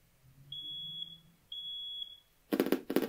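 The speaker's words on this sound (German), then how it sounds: "jetzt hier den Feueralarm-Sound abzuspielen" Fire alarm sound from a DIY JQ8400 soundbox: two steady high-pitched electronic tones about half a second each, followed by harsh, loud pulsing alarm blasts, with no talking.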